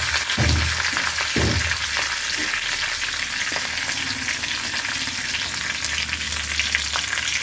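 Curry leaves dropped into hot oil for a ridge gourd and lentil tamarind curry, giving a steady close sizzle with a few sharp spatters and light stirring at the start, no talking.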